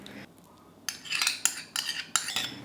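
A spoon mixes fine Oreo cookie crumbs with melted butter in a bowl, giving close, scraping and clinking bursts in three or four strokes after a quiet start, with no talk.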